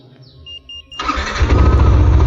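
A Yamaha Nmax scooter engine cranks and fires up after a remote start, following a few short alarm chirps, then settles into a loud, steady idle close by.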